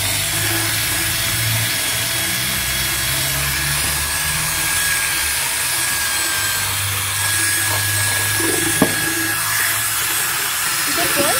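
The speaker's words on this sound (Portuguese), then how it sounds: "Escova de aço pra tirar cola." Steel wire brush scrubbing glue off a surface during a motorhome build, a continuous rough scraping hiss under a steady machine drone, with a brief knock near the end.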